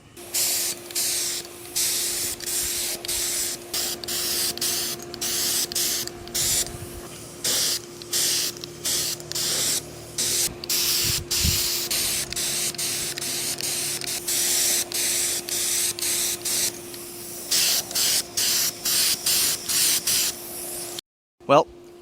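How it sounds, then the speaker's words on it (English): A spray gun sprays Cerakote coating onto an engine intake manifold, giving a loud, steady hiss in repeated bursts with short breaks between trigger pulls, lasting about twenty seconds, with a steady tonal hum underneath. "let's get it in the gun and get it sprayed out on the intake"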